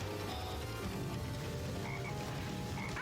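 Black frogs in Sonic Heroes croak in a dense, continuous chorus of overlapping low calls, loud and close with no voices.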